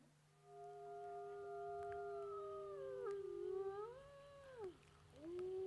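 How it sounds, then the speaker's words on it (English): A recorded wolf howls in long, sustained tones that bend and slide in pitch, with one howl tapering off and a new one rising, played faintly over a low steady hum. "Okay, so that's the sound of the wolf"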